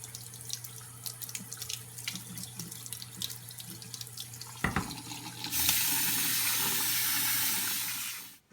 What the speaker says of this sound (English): You can rinse your rice by putting it in a strainer with a cloth over it so the rice gets clean